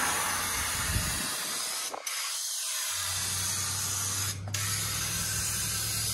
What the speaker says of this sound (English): You guys know I love these turbo cans. It shoots like a 2-foot spray pattern.